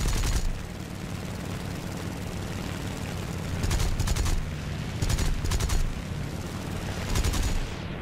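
Aircraft machine guns in the War Thunder video game, fired from a Japanese fighter during a dogfight with a Hellcat, four or five short rattling bursts over a constant loud engine drone.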